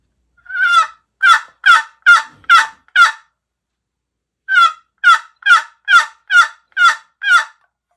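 Lynch Foolproof box turkey call played by hand, a run of six sharp yelping clucks, a pause, then seven more, loud and close with no other sound.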